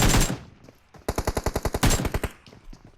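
Automatic gunfire in the mobile shooter PUBG Mobile: a loud opening blast, then a rapid burst of about a dozen evenly spaced shots, followed by a heavier shot and a fading tail.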